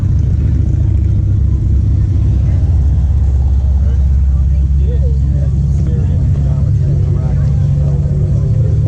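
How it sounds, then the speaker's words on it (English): A car engine rumbles loudly at a car show at Hines Park in Detroit, Michigan, a steady low idle growl with a slight rise in revs, close by and continuous, with people talking faintly in the background. "There's that 6-pack car."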